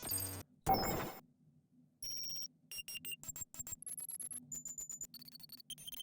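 Short electronic blink notification chimes from a sound effects library play one after another, bright synthetic beeps and tones in quick separate bursts, clean and alone with no voices.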